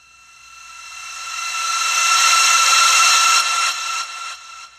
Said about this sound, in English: I created this, I guess it's kind of a riser, which I ended up using for transition in my beat.